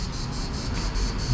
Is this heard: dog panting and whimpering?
no